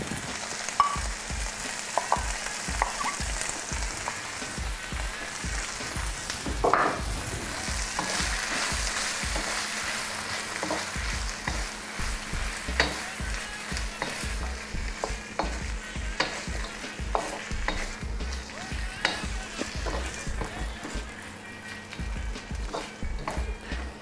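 Carrots and green beans stir-frying in a pan give a steady sizzle under repeated stirring, with rhythmic scrapes and knocks of a utensil against the pan continuing throughout.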